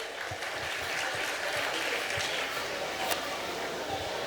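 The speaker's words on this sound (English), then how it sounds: "Clap for him." Audience applause at a student speech competition, steady dense clapping from a crowd in a hall, sustained at an even level throughout with a brief sharp clap standing out near the end.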